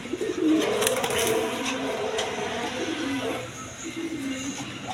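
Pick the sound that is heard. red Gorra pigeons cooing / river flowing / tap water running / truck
red Gorra pigeons cooing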